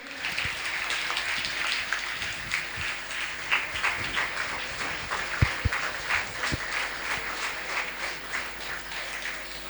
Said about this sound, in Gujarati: આપણે આ સન્માનને જોરદાર તાળીઓથી વધાવીએ